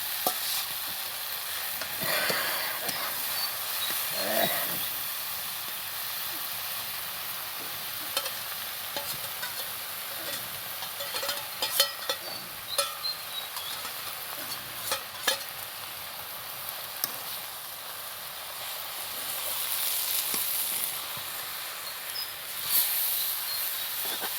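Jute greens hitting a hot pan and sizzling, with a continuous frying hiss, intermittent stirring scrapes and clatters, and a louder burst of sizzle near the end.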